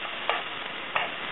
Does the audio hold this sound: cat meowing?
no